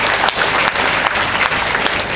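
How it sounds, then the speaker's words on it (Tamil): An audience at a festive temple-consecration debate event claps in a dense, steady burst of applause, loud and sustained throughout with no speech over it. "அதுக்கே ஒரு கைத்தட்டு பிள்ளைக்கு கொடுக்கலாம்"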